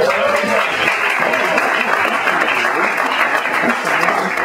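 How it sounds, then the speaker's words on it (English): Audience applause at an arts center show fills the whole stretch as a steady, dense wash of clapping, loud and continuous with no clear breaks. "So, round of applause."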